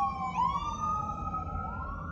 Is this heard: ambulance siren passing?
yes